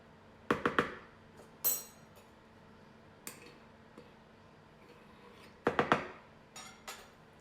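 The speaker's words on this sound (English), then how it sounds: "I'm just gonna scoop this in with my spoon" A metal spoon scoops flour into a bowl for banana bread, making quiet clinks and two clusters of sharp taps against the container, separated by near silence.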